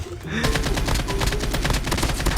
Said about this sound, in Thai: ในน้ำยิงกันว่ะ